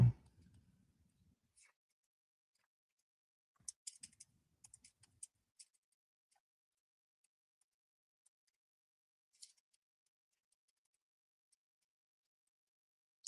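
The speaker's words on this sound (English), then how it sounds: "Sorry guys, I'm typing a reply." Keys on a computer keyboard are tapped while replies are typed at Los Angeles International Airport, giving a few faint, scattered clicks in short bursts separated by near silence.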